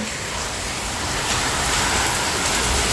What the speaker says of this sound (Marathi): बऱ्यापैकी जोरात पाऊस आलेला आहे